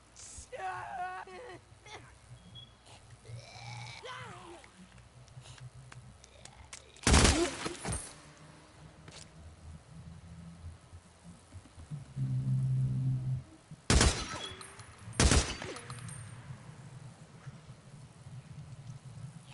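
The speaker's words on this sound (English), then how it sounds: "They hear the gunfire." Three sharp, loud bursts of gunfire in the video game Days Gone crack out over a quiet, murky backdrop, with low rumbling and scattered faint noises between them.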